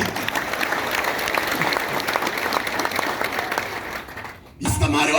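A church congregation claps in a steady, dense round of applause over a pastor's voice, cutting off briefly before another burst of clapping and cheering at the end.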